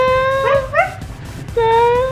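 A young child imitates a dog with long, wavering howl-like "woof" sounds: one drawn-out cry, a pair of short yips, then another sustained howl, close and fairly loud, with no other talking.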